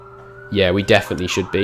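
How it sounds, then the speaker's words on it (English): A wailing emergency siren passes outside, its tone sweeping up and down and clearly audible beneath a voice speaking over it. "Sorry about the siren."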